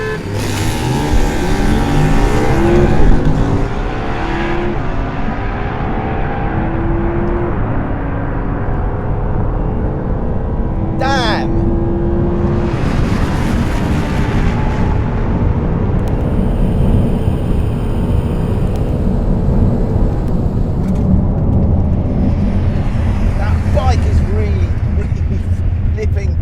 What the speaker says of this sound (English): Audi R8 V10 versus Ducati Diavel.